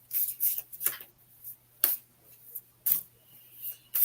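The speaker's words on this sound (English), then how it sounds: "Here we go. Shuffling." A tarot card deck is shuffled close by in sharp, uneven snaps and flicks, several distinct crisp bursts separated by short pauses over a low steady hum.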